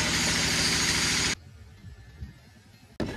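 A car engine idles close by with a loud, steady rumble that suddenly drops away for about a second and a half, then cuts back in at full strength.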